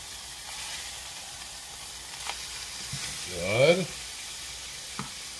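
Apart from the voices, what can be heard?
onion burger patties sizzling on a griddle after flipping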